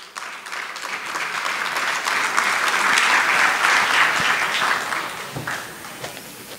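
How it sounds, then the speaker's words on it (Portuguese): An audience breaks into loud, sustained applause for a speaker at a conference, building quickly, holding steady for several seconds, then tapering off into scattered claps. "con un fuerte aplauso"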